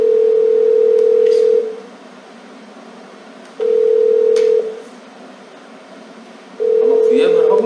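Phone ringback tone heard while placing a call, three long steady beeps separated by silent gaps, loud and close, with faint background noise.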